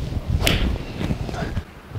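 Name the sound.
golf swing hitting ball with Nike VR Pro Forged iron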